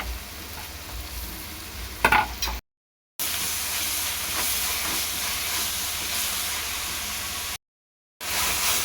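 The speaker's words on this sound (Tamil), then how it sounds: "இதில் இஞ்சி பூண்டு பேஸ்ட்டு, பச்சை மிளகாய், புதினா இதெல்லாம் போட்டு நல்லா வதக்கிக்கலாம்." Ginger garlic paste, green chillies and mint sautéing in a pan, giving a steady loud sizzle and hiss with stirring scrapes, broken by two short silent gaps, and no talk.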